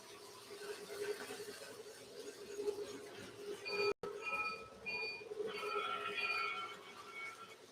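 Large model diesel locomotives roll along a layout, a steady low rumble of wheels with high squealing tones over the track, heard close and continuous with a short break partway through.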